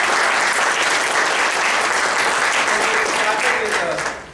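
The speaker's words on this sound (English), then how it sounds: "So please give them a big round of applause." Audience applauding at a management institute's inaugural and orientation ceremony, dense sustained clapping that fills the room and fades slightly at the end, with faint voices mixed in.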